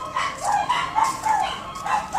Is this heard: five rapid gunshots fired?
no